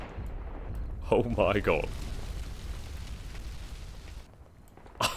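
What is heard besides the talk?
Excalibur artillery rounds exploding in Combat Mission Black Sea video game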